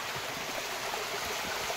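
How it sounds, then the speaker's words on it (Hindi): Cold mountain stream water in Chamoli, Garhwal rushes down in a dense, continuous hiss and gurgle, close and fairly loud, with no voices. "ये देखो पानी आता है नीचे, ये बना रखा है पानी, यहाँ से जाता है।"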